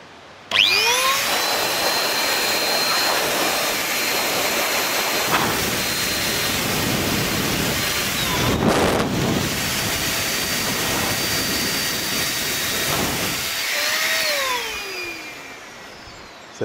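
A multipurpose electric blower runs steadily for most of the stretch, a loud continuous whooshing roar with a high motor whine, briefly dipping and surging midway before winding down near the end.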